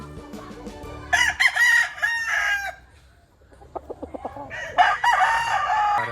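Gamefowl roosters at a backyard breeder's yard in Lipa, Batangas crow loudly and close, two long drawn-out calls with clucking and shorter bird sounds between them, and no talk over them.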